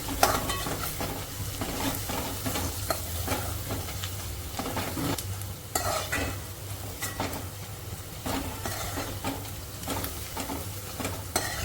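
Masala frying in a pan over a high gas flame while being stirred, a continuous close sizzle with frequent scraping and knocking of the spatula against the pan, no talking.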